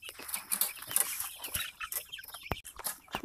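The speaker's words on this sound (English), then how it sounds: "Red Ranger meat birds." Red Ranger meat chickens cluck and chatter continuously in a brooder pen, a dense close flock of overlapping peeps and clucks with no talk.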